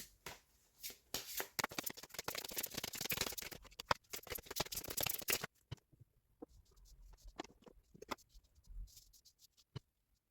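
A deck of oracle cards is shuffled close up in a quick, papery flutter for several seconds, then gives way to scattered soft taps and slides as cards are handled and laid down.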